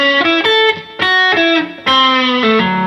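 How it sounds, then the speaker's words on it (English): Distorted electric guitar from a Fender Telecaster, crunchy overdriven chords strummed in a loose rhythm of several sustained hits with brief gaps, loud and close, no voices. "Let's go back to that distortion again"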